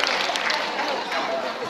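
An audience at a school freshman ball applauding, a brief dense burst of clapping sustained evenly throughout.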